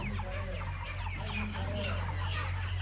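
Chickens cluck and squawk continuously in a crowded poultry shed during a night catch, a dense, steady flock chatter over a constant low machinery hum.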